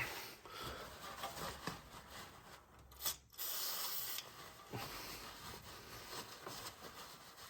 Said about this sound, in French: Je vous conseille d'utiliser le cliquet là, en fait, ça évite d'abîmer la vis de purge.